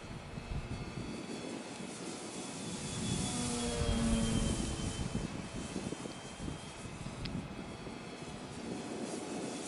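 An F4B scale model aircraft drones steadily through laps of straight and level flight, a continuous engine tone holding at moderate distance, swelling slightly near the middle as it passes closer, with no voices.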